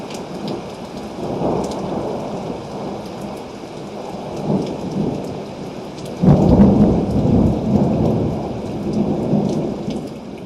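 Steady rain pours through a rumbling thunderstorm, with a louder thunder roll breaking in about halfway through and continuing to the end, with no voices.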